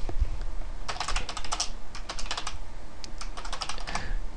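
Code being typed on a computer keyboard: a steady run of quick, close key clicks in short bursts with small pauses, loud and clear with no voices.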